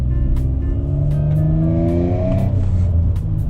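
Manual-transmission car pulling away in first gear, engine revving up steadily with rising pitch, loud and close, then easing off near the end.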